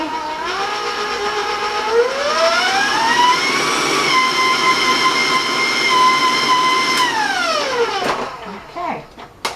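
Stand mixer with a paddle beating lemon pound cake batter, a loud motor whine that rises in pitch, holds steady, then winds down and stops, with faint talk underneath.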